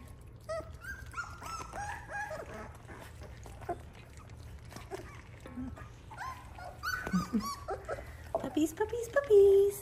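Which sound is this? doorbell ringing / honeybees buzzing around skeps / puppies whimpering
puppies whimpering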